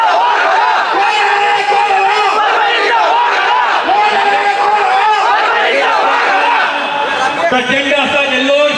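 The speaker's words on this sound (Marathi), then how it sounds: "प्रचंड असा जल्लोष" A large crowd at a political rally cheers and chants loudly and continuously, with a dense roar of many voices and shouted slogans rising together and filling the space throughout.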